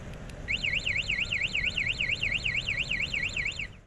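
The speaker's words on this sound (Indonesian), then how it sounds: "kita bisa menggunakan mode pencarian dengan menekan tombol lonceng pada remote, maka motor akan berbunyi seperti ini ya" A motorcycle anti-theft alarm in search mode, triggered from the remote's bell button, sounds a loud warbling electronic beep that sweeps up and down repeatedly for about three seconds, alone and nearby.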